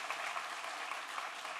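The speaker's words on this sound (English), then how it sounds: "Claps." Audience at a design awards event applauds in a brief, steady wash of clapping heard from a distance, with no voices over it.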